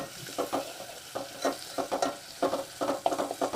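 Onion and garlic frying in fat in a pan for a Sukapatal mutton curry, with a steady sizzle broken by repeated stirring scrapes at an irregular rhythm, close and moderately loud, no talk.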